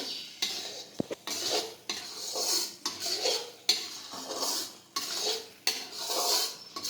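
A spoon stirs bottle gourd halwa with ghee in a pan, making repeated rhythmic scraping strokes with metal clinks, close and alone.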